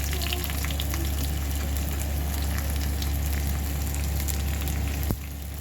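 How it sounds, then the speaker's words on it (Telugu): Tempering of spices and a sprig of curry leaves frying in oil for a leafy greens curry, giving a loud, dense, continuous sizzle that cuts off abruptly near the end. "తాలింపు బాగా ఫ్రై అయిందండి"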